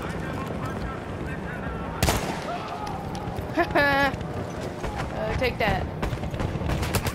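Gunfire from a gun in the video game Battlefield 1: a sharp loud shot bursts out, followed by scattered weaker shots and mechanical clatter amid busy game ambience, with someone talking over it.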